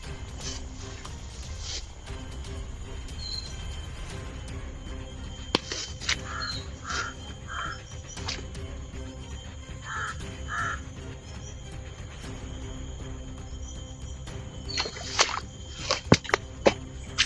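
Crows caw intermittently outdoors, several faint, scattered calls over a steady background rumble, with a few louder knocks and clatters near the end.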